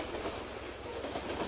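A train rolls along in the Brick Rigs video game, a steady rumbling clatter of rail noise with low droning wheels, continuous and fairly close throughout.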